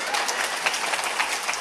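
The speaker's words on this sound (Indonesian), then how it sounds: "Tepuk tangan yang buat infus ini." Dense, continuous audience applause from a crowd at a live religious lecture in Kalibaru, a steady wash of many hands clapping without pause, fairly loud and even throughout.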